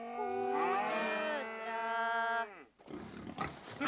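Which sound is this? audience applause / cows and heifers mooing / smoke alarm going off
cows and heifers mooing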